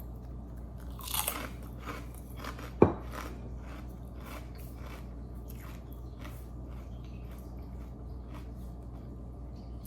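Texas toast flavored pork rinds being chewed, a single sharp crunch standing out near the start against a quiet background, followed by faint soft mastication.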